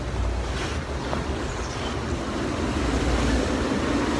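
Water ride at Thorpe Park plunging through a splashdown, a steady loud rush of spray and churning water with wind noise, no voices.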